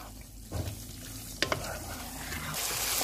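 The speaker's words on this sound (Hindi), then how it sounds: "अब इसको हम थोड़ी देर तक भूनेंगे।" White chicken karahi fries gently in a pan over medium heat, giving a soft, quiet sizzle with a couple of sharp utensil clicks from stirring partway through.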